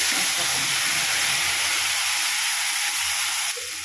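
Black cumin seeds and a homemade spice paste drop into hot oil for mustard hilsa, producing a loud, continuous hissing sizzle close up that eases slightly near the end.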